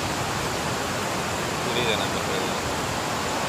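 Water rushes over the Anthiyur Periya Eri lake overflow, a dense steady roar that fills the scene, with someone speaking briefly over it.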